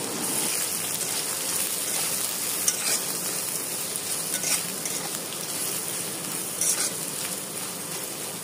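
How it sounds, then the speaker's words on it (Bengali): Chopped onion and green chili sizzling in hot oil with cumin in a pan, a continuous dense frying hiss with faint stirring scrapes, close and steady with no talking. "পেঁয়াজ কুচি ও মরিচ দিয়ে খুব ভালো মতো একসাথে ভেজে নেব।"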